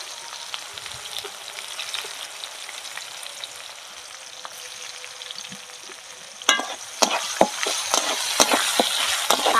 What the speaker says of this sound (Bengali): পেঁয়াজ কুচিটা সুন্দর করে একটু লাল লাল করে ভেজে নেব